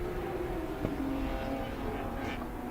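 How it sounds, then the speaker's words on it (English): Race cars at Hampton Downs during an endurance race, including a Subaru and a McLaren, drone steadily at a distance, with engine notes rising and falling faintly as they pass. "So now look at this, a Subaru passing a McLaren."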